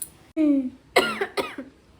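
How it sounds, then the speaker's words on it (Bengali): A person coughs twice in quick succession, close and fairly loud, after a short vocal sound at the start; the coughs are harsh, broadband bursts with throaty tails. "কাশি হয়ে গেল তো হ্যাঁ"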